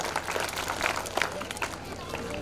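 Audience applause for a young award winner at a Republic Day prize distribution, a steady crackling patter of many hands clapping through the whole stretch, moderately loud with crowd murmur beneath.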